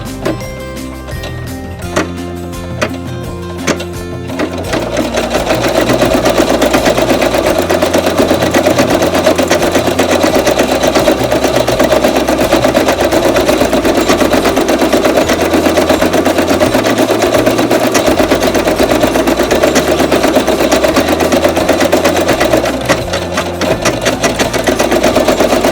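An embroidery sewing machine stitches on faux leather, starting with a few taps and then running continuously in a loud, fast, steady mechanical chatter for over twenty seconds, close by and without talk.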